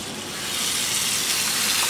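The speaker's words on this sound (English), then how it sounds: "I wanna put the water." Three cups of water pour steadily from a tap into a pot for polenta, a loud, continuous rushing gush that grows slightly fuller as it goes, with no talking.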